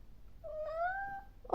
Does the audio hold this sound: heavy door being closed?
no